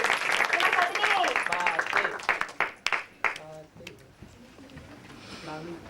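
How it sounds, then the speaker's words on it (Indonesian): A group claps in a burst of scattered applause that thins out and fades, with voices mixed in. "Ayo, tepuk tangan yuk, buat Mas Pati."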